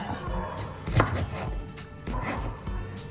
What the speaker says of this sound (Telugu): ఈ స్లైసెస్ అన్నింటినీ వర్టికల్గా సన్న సన్నగా చేసుకుందాం